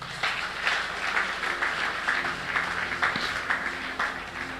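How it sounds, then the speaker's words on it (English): A crowd claps steadily for several seconds, a dense wash of overlapping hand claps at moderate volume with no talking. "Somebody clap for doctor."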